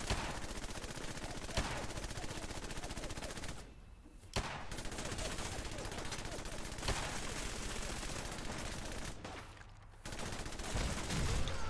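Sustained rapid gunfire from the Merca gun in the game Wasteland Warrior, a dense automatic stream that pauses briefly twice before resuming, loud and continuous.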